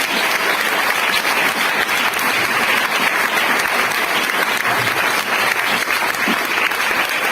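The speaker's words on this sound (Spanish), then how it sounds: "Un fuerte aplauso a Jesús" A church congregation at a Spanish-language service bursts into loud, sustained applause, a dense, steady wash of many hands clapping together with no talk over it.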